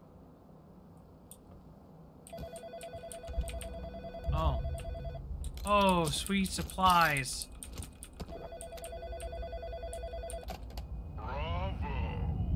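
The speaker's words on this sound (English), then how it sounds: "How is there a telephone ringing?" A telephone rings in the video game In Sound Mind, repeated electronic ring bursts in two spaced runs over a low ambient hum, with someone speaking briefly between them.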